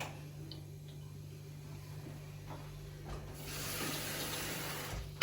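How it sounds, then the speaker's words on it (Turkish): Hot water is poured over kavurma-filled cabbage rolls in a kitchen; after a quiet stretch with faint ticking, a steady, moderately loud rushing pour begins and continues to the end. "Hemen şöyle sıcak suyumuzu da dökelim üzerine arkadaşlar."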